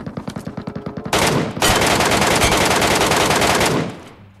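In Metro Royale mode of PUBG Mobile, a string of evenly spaced single shots gives way to a long, loud, continuous machine-gun burst lasting several seconds before cutting off, close and unmasked by voices.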